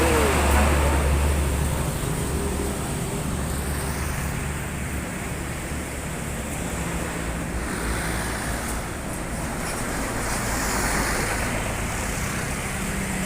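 Road traffic along Jalan Raya Prabu Siliwangi in Tangerang, Banten, a steady broad rumble and hiss of passing cars with wind noise, continuous and moderately loud throughout.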